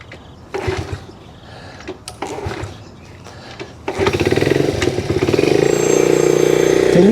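A 1972 Honda Trail 70 small motorcycle being kicked over: a few clunky kick-starter strokes and rattles, then the little engine catches and settles into a loud, steady close-up putter.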